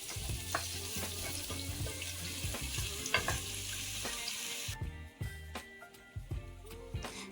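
Chopped large onions frying in a hot pan for Tamil squid masala, a steady close sizzle with stirring clatters and utensil scrapes throughout, the hiss dropping away partway through while stirring knocks continue.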